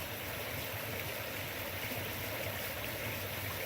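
A small creek runs steadily beside a trail, with a little waterfall feeding it, giving a continuous close rushing and burbling wash with no pauses and no voices.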